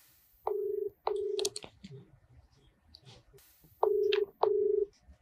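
Telephone keypad tones as a number is dialed for a call, two pairs of steady beeps, a pause with faint clicks, then two more beeps, loud and close.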